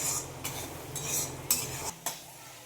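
Ground spices with turmeric sautéed in oil in a pan, a low sizzle under several sharp scrapes and taps of a spoon against the pan.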